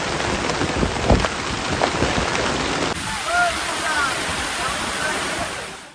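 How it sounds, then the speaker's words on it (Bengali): Heavy rain pours down during a storm in a dense, loud, steady roar that suddenly drops to a quieter wash of falling water, with faint bird chirps coming through. "দেখুন কি মারাত্মক বৃষ্টি হচ্ছে"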